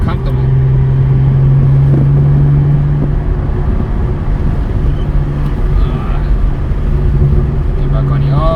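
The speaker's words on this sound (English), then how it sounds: "Oh, the M Performance exhaust really does make this car just feel that bit more engaging to drive" BMW M240i with an M Performance exhaust droning steadily while driving, a loud, constant engine hum with rumbling undertones, no distinct pops standing out.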